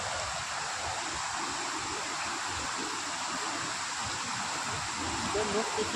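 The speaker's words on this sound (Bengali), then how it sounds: "এখানে সামনে একটা বড় ঝর্ণা আছে" Rushing water from a large forest waterfall in Betla Forest, Jharkhand, fed from the hills, a dense continuous roar that stays steady and fairly loud throughout, with no talk heard.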